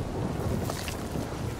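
Steady wind blowing through the Guardians of the Galaxy game world, a continuous broadband rush with rumbling low gusts, constant and fairly loud throughout with no voices.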